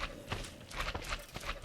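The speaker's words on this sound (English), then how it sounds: "we got a horse." A horse in the Minecraft game, Agrarian Skies modpack, makes several short clip-clop or whinny-like game sounds in a steady close pattern, with no talking over them.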